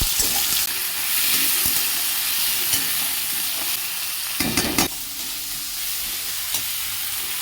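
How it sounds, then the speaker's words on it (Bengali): Chopped onion, garlic, ginger and tomato sautéing in oil in a kadai, a loud continuous sizzle with scraping stir strokes and a burst of spatter midway, close and alone. "ওই তেলেই পেঁয়াজ কুচি, রসুন কুচি, আদা কুচি ও টমেটো দিয়ে ভালো করে কষিয়ে নেওয়া হলো"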